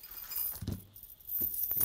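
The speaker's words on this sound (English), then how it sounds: "We got us a chain." A metal chain jangles in two short bursts as it is unpacked from a survival gear box, close and fairly quiet with no talk.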